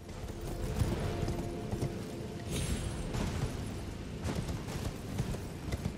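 Horse hooves gallop across terrain in the video game Elden Ring, a steady dense pounding rhythm running throughout at moderate loudness with a brief rumbling burst midway.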